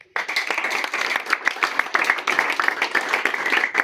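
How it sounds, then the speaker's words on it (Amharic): A church congregation claps together in fast, steady rhythm, dense and close, filling the whole stretch with lively hand claps. "በደንብ አጨብጭቡ።"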